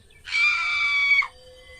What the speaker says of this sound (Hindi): खुद को शीशे में देखकर उसकी जोर से चीख निकल जाती है।